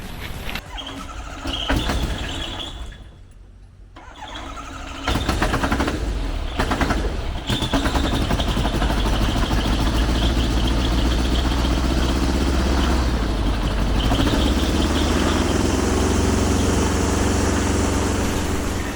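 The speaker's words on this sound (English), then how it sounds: "I did the first startup of the 912 fully integrated into the plane this Friday" A Rotax 912 aircraft engine on its first startup fully installed in a homebuilt plane, needing new carburetor seals: brief sputtering bursts, a short lull, then a loud, steady, close-up roar holding to the end.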